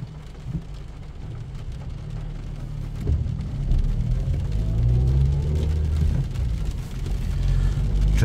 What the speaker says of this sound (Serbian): kiša pada